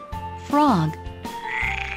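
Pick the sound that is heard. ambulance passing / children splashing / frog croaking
frog croaking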